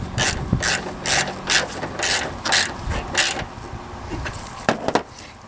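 A ratchet tightens the hold-down bracket on a car battery, sending out bursts of rapid clicking, loud and close, in several short pulls with brief pauses between them.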